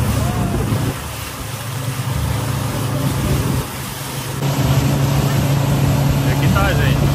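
Motorboat on the river near Combu Island off Belém, Brazil, its engine droning steadily with wind and water rush, then the pitch and loudness rise as it speeds up partway through.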